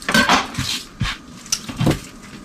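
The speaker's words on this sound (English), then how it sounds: "we're going to chop up an onion here, cut off the end, cut it in half" A knife cuts through an onion on a board, a few sharp close thunks and scrapes spaced unevenly over a couple of seconds.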